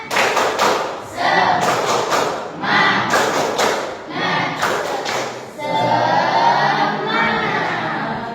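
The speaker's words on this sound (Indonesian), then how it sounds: "Tepuk semangat." An eighth-grade Islamic jurisprudence class performs the 'tepuk semangat' clapping chant in a classroom: groups of sharp rhythmic claps and thumps mixed with children's chanting voices, ending in a sustained shout.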